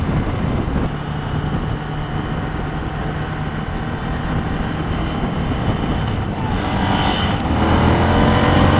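A Chevy car climbs a mountain road past cyclists and a truck, its engine roaring loud and strained in a dense, continuous rush that swells further toward the end.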